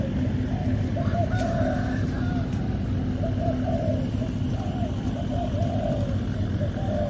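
A pair of pigeons, one male and one female, coo in soft, repeated rolling phrases over a steady low drone and background hum, close but fairly quiet.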